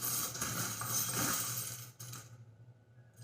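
Dice rattle and tumble across a surface in a brief clattering roll before settling, followed by quiet.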